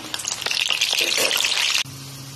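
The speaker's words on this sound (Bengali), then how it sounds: "লো টু মিডিয়াম ফ্লেমে রেখে গজাগুলোকে সুন্দর করে ভেজে নিচ্ছি" Goja sweets deep-fry in oil over a low to medium flame, producing a bright, crackling sizzle for under two seconds before it cuts off abruptly.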